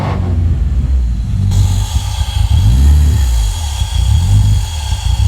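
A Toyota engine fitted in a Volkswagen bus runs loud and close with a deep, steady rumble, its revs rising and falling in a few swells after a brief start at the beginning.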